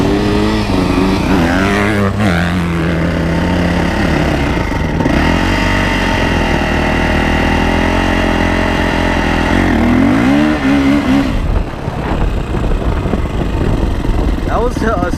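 A Yamaha YZ450F dirt bike engine revving and droning continuously, loud and close, pitch climbing and falling as the rider accelerates, with the wind roaring throughout.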